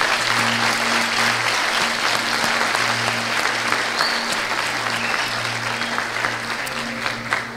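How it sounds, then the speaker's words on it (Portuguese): Sustained applause from a church congregation during an Easter musical at an Assemblia de Deus service, steady and full throughout, with a low sustained musical tone underneath. "A igreja, por favor, uma salva de palmas para essas pessoas."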